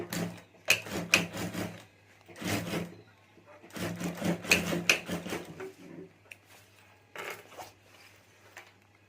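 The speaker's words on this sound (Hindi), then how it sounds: "इसी तरह यह दूसरी साइड भी हमें सिलाई कर देनी है।" Short bursts of a sewing machine stitching the side seam of a fabric clutch purse, several starts and stops with quiet pauses between, fairly close but modest in level.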